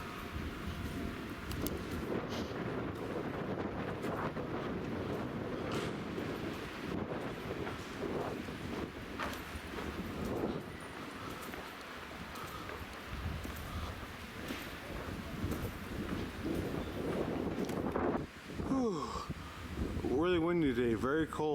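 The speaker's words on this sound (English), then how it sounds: "Really windy today, very cold." Strong, cold wind sweeps through a narrow alleyway in Volterra, Tuscany, Italy, buffeting the microphone in a continuous loud roar with gusty surges. A voice is briefly heard near the end.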